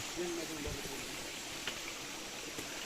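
Water flowing from a natural spring on a rural lot, a soft, steady broadband rush close by, with a brief voice near the start and a few small knocks.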